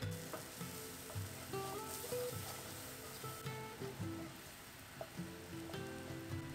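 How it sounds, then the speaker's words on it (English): Onion and ground coriander masala paste sizzling in oil in a skillet for a Kolhapuri-style curry, a steady close frying hiss with occasional soft stirring scrapes, no talking. "To the skillet, add some oil and ground coriander onion masala paste."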